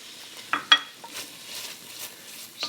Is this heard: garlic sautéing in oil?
yes